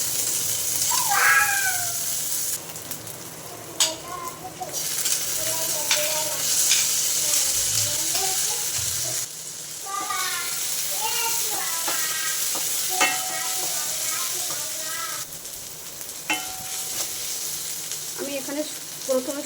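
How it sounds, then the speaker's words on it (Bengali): Chopped onions and green chillies sizzle steadily in mustard oil while being stirred, the frying hiss running throughout as a cat meows repeatedly nearby. "তেল দিয়ে দিলাম, দিয়ে পেঁয়াজ কুচিগুলো হালকা করে ভেজে নেব"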